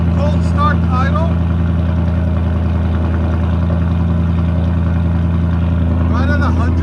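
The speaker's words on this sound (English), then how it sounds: "This is idle, guys. Cold start idle." Loud, close and steady, the cold-start idle of a 2024 Ford F-350 with a 6.8L V8, X-pipe and straight pipes rumbles on without a break, deep and throaty.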